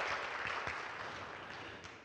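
Quiet, fairly dense audience applause at a democracy forum in Gwangju, filling a hall as a session chair is introduced, steady and then slowly fading over two seconds.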